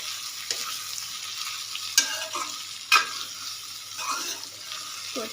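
Potatoes are stirred in a frying pan for macaroni, a soft sizzle broken by a few distinct scraping strokes of the spoon against the pan.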